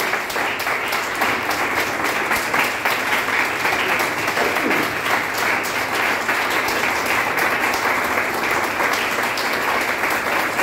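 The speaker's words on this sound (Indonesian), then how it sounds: "Ayo kita tepuk tangan 1 menit bagi Tuhan" A church congregation claps steadily during a sermon, a dense, sustained wash of applause that fills the space for the whole stretch, with no clear voices on top.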